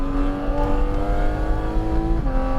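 A race car on the Sonoma track accelerating under throttle, its steady engine tone climbing close and loud before shifting near the end.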